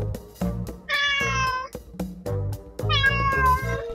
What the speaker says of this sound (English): I think I see the cat.